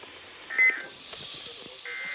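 Emergency alert test tones from a NOAA weather radio broadcast for the Tallahassee forecast area, heard as short, quiet steady beeps: one brief burst near the start and another held tone toward the end over low broadcast hiss.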